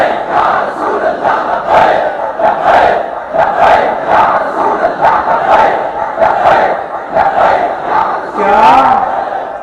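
A large crowd at a Tahaffuz-e-Namoos-e-Risalat rally chants loudly in steady, rhythmic bursts of many voices, the shouts rising and falling in a repeating cadence without pause.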